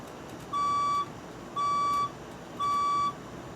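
A building fire alarm test sounds three identical steady electronic beeps, each about half a second long and evenly spaced, loud and clear over a quiet background.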